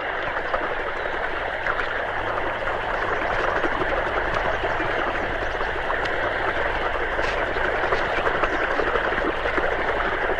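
Water rushes steadily through an irrigation channel, a continuous broadband flowing hiss without pauses.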